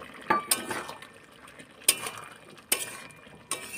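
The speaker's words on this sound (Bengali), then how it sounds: "ঝোলটা ভালোভাবে ফুটে গেছে। এবার ভেজে রাখা ডিমগুলো দিয়ে দেবো।" Fried eggs are added to a bubbling egg curry gravy in a pot, giving a few soft splashes and clinks of utensils against the pan, with brief sharper knocks spaced across a quiet kitchen.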